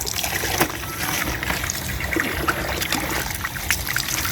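Water pours steadily to soak clothes for washing, a continuous close trickling and splashing that runs throughout with slight surges.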